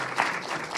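Audience applause at an evening lecture event honoring an ambassador, a steady burst of many hands clapping heard from within the hall, fairly even and sustained throughout the short moment.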